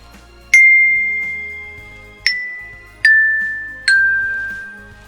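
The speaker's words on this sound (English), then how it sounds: "I have some more bells, a bell set, which also is called a glockenspiel." A metal glockenspiel bell set rung in four separate clear, bright strikes, each ringing on with a long sustained tone at close range.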